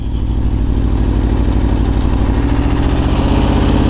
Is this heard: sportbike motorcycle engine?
yes